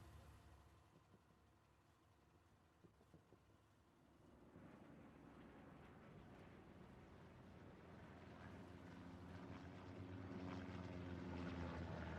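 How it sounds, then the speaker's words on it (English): A recon plane passes overhead in the WWII shooter Hell Let Loose on the Carentan map, its propeller engine droning steadily and growing louder as it nears, with no talk over it. "Oh, that recon plane is going to spot one."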